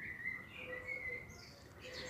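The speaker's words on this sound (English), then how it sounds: "Those are little birds." Small birds chirp faintly outdoors in short, scattered high calls over a steady background hiss, with no voices.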